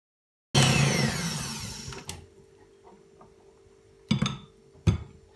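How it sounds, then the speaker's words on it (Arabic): An electric mixer whips butter and sugar for buttercream, a loud, steady close whir running for about a second and a half before cutting off, followed by a couple of sharp knocks. "هلا كمان برجع بخفق."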